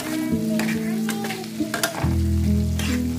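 Raw peas fry and get stirred in a hot pan, with a steady sizzle, scraping spoon strokes and a louder burst of frying partway through, heard up close without talk.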